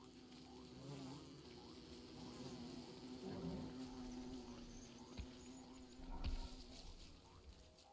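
Bees buzz steadily in the video game Don't Starve Together, a continuous droning hum with a faint tonal whine and quieter game sounds mixed in, no talking.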